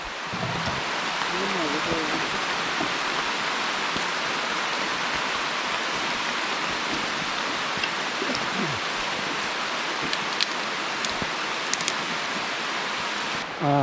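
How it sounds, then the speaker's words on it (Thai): Heavy rain pours steadily in a forest during a storm, a dense and loud hiss held for the whole stretch, with a voice faintly heard beneath it in places. "ตอนนี้ฝนตกหนักมากเลยนะครับ"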